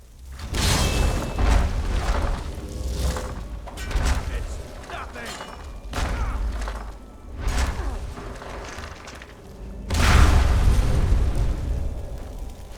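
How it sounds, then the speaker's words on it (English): Melons exploding in a video game, heard as a series of loud booming bursts and whooshes that come in waves, one after another, with a heavy final blast. "Nothing but a bunch of melons exploding in your face"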